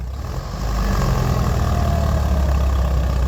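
A walking tractor engine idles steadily nearby, a loud, low, continuous chugging drone with no voices.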